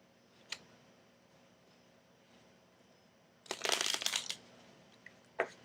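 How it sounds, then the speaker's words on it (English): A deck of playing cards is shuffled near and crisp, one dense riffling burst of about a second, with a couple of short card snaps and taps before and after in a quiet room. "I just got a deck, and I'm going to shuffle up the deck."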